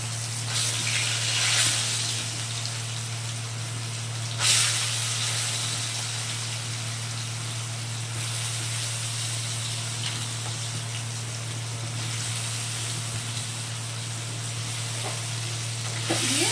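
Squeezed soybean chunks land in hot oil just after fried potatoes come out, giving a steady, bright sizzle over a low constant hum, with a brief louder burst early on.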